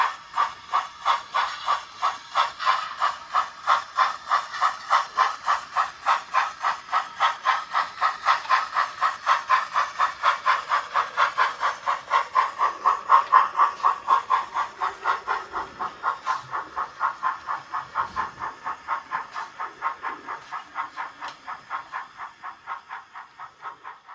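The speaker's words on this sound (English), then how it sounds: "this is the Caledonian Macintosh Class 812, number 828, hauling a coal train out of the new sidings at KIllin." A Bachmann model Caledonian Class 812 locomotive hauls a coal train on a model railway layout, giving a steady rhythmic chuffing and rattling that gradually softens and thins out over about twenty-four seconds.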